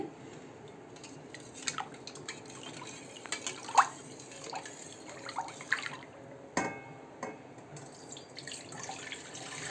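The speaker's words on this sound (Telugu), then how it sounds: "ఇప్పుడు పాలు పోసుకుందామండి" Cow's milk is poured into a pot to make firm homemade cheese, making a faint, continuous liquid trickle and splash with a few small metallic clinks and no talking.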